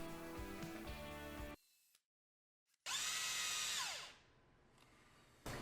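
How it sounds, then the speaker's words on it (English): Cordless drill boring screw holes in a wooden speaker baffle, a loud whining burst that cuts out abruptly, then another high-pitched run that winds down as the battery dies. "I also centered the driver in the mounting hole and drilled out some holes for the screws"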